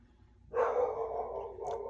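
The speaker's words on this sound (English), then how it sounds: "Sorry, that's my dog." A single dog gives one drawn-out, somewhat muffled bark or yowl that trails off, heard alone at moderate distance in an indoor room.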